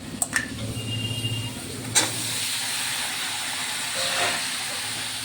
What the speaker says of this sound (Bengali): এবার ঝিঙে আলুগুলো দিয়ে দেবো।